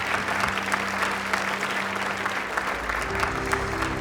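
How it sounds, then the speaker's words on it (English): An audience claps steadily for a returning Navy SEAL's parents at an honor ceremony, a dense, continuous wash of applause with a low hum underneath. "Give them a hand clap for Ed and Sam Christensen as you come up"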